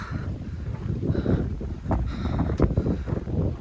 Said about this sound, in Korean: 바람 왜 이렇게 불어?